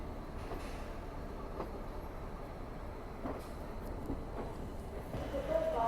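The Azad Hind Express rolls into Bilaspur station with a steady low rumble of wheels on track and faint clanks, plus a brief squeal near the end. The sound is fairly quiet and distant.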